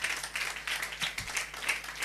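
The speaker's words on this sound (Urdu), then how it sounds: "زوردار تالیاں بھی" Loud applause and clapping from a church congregation honoring a worship singer after a song, steady and continuous throughout with no talking.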